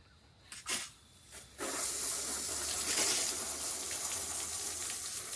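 Water rushes from a hose in a steady, loud hissing gush that starts abruptly after a few brief knocks and continues close by.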